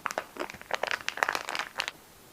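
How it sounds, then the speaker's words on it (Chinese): Plastic packaging around a packaged Shanxi specialty pork liver crinkles and rustles in a quick cluster of close, crisp bursts for about two seconds. "让我们先拆开来看一看"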